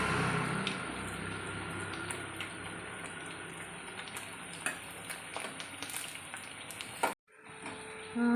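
Paneer frying in a pan on a medium-low flame, a steady close sizzle with light stirring ticks that cuts off abruptly near the end before a quieter return.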